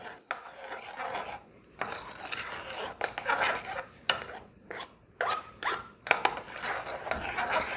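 Cake batter for bolo no pote being slowly mixed by hand in a bowl, with a steady run of soft scraping, rasping strokes, brief gaps between strokes and the occasional light clink of utensil on bowl, close and alone.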